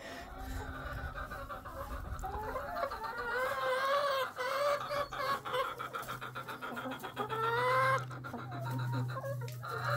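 Several hens cluck and call over one another, close by and fairly loud, with a steady low hum running underneath throughout.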